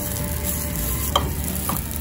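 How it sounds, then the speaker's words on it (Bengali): Sliced radish fries in a pan over medium-high flame, sizzling steadily while a spatula stirs it, with a couple of soft scraping clicks near the end. "মিডিয়াম টু হাই ফ্লেমে আমি 10 থেকে 12 মিনিট পর্যন্ত এভাবে নেড়ে নেড়ে ভেজে নিলাম মূলোটা"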